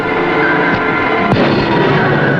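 A submarine fires a torpedo electrically, producing a muffled, deep thump followed by a sharper whooshing burst over a constant mechanical hum.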